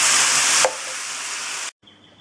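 Crushed tomato hitting a hot pan for salsa brava gives a loud, steady sizzle that softens after a sharp burst at the start, then cuts off abruptly near the end.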